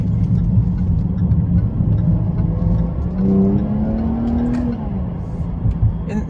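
A 2017 Jaguar XE 35t R-Sport accelerating hard, its engine note rising steadily in pitch through a gear with a loud cabin rumble, then easing off as the revs drop.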